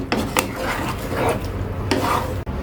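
Fish roe fritters being stirred in tangy, spicy gravy in a pan, giving a continuous close bubbling sizzle with repeated scraping strokes of a spatula and a brief knock near the end.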